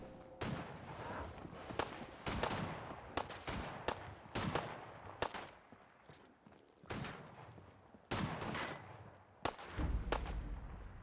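Gunfire in a video game, a series of sharp separate shots and short bursts spread across the stretch, fairly close and punchy, with no talk over it.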